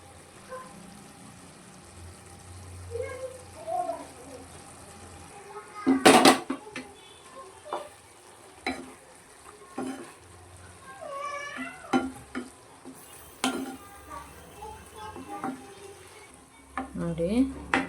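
Ivy gourd palya with grated coconut is stirred in a pan, with a low background sizzle, intermittent scraping strokes and one sharp clatter, and a few faint vocal sounds in between.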